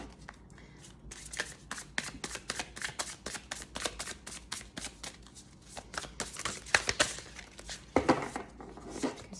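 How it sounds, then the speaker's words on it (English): Tarot cards shuffled by hand, a long run of close, rapid papery riffles and flicks with brief pauses and louder slaps near the end, no talking. "let's pull out some more cards and let's start with the tarot."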